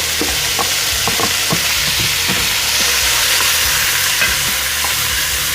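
Cubed tri-tip, about three pounds, sears in a couple tablespoons of oil in a Dutch oven, giving a loud, steady sizzle broken by scattered pops and spits.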